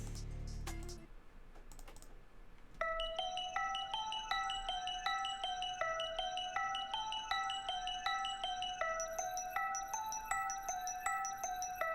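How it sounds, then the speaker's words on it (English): A bright mallet bell plays a quick melody of short, ringing notes in a steady rhythm, close and clear, with no voices. "It's the mallet shot bell."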